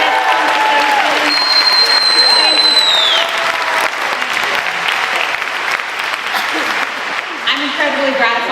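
Sustained loud applause from an audience at an Indivisible town hall event, continuous clapping with whoops and cheering voices mixed in throughout.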